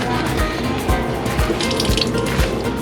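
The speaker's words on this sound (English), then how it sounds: "Squeeze these and try to absorb the rest of that water." Water squeezed out of grated cucumbers, pouring and trickling steadily with close, loud liquid splashing and irregular drips throughout.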